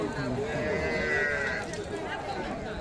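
Cattle at a busy livestock market, with animal calls rising over a continuous crowd murmur and people talking nearby throughout.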